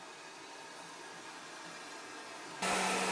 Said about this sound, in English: the hair dryer is blowing on the other side